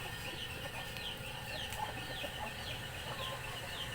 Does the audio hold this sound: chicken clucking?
yes